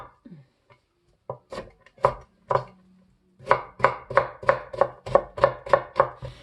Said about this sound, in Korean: 이게 무가 이렇게 썰으면 더 맛있어요